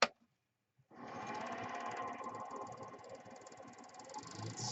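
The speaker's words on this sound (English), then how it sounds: "I'm going to start with 240 grit sandpaper because this is very soft" A soft wine cork spinning on a lathe is sanded with 240 grit sandpaper, a steady whirring, rasping grind that starts abruptly after a second of near silence and runs on at an even level.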